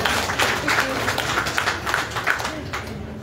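Audience applauding a gift-voucher award recipient at a ceremony, steady broadband clapping throughout, moderately loud with voices mixed in.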